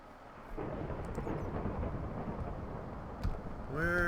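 Thunderstorm in a Minecraft mod pack: a steady rumbling wash of rain and thunder fills the clip, with a brief louder crack near the end before other game sounds come in.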